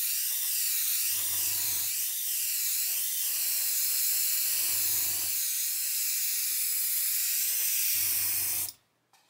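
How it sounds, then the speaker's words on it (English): An airbrush spraying paint in sweeping back-and-forth passes, a steady loud pressurized hiss with a faint compressor hum pulsing underneath three times, cutting off abruptly at the end. "just keep the airbrush going and spray it on"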